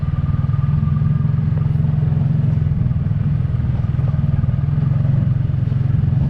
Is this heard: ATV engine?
yes